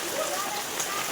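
Heavy monsoon rain falls on a village, a dense steady hiss of drops on surfaces that stays loud and unbroken through the whole short stretch.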